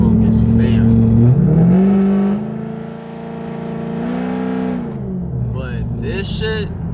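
A cammed Pontiac G8 engine revs hard nearby, a loud lumpy rumble climbing and falling through a few pulls and then settling, with a voice talking briefly near the end.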